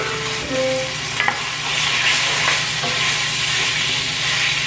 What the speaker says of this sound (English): my oil is added. I'm going to add all of this chicken.